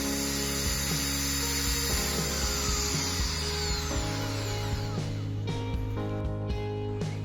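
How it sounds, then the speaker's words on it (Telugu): An electric drilling machine, plugged in and switched on for work on a broken pillar, runs with a steady loud motor whine and rattling, with some mechanical clicks and a brief shift in pitch near the end. "కరెంట్లో ప్లగ్ పెట్టేసాము స్విచ్ కూడా వేసేసాము డ్రిల్ చెక్ డ్రిల్ బాగా చేస్తుంది"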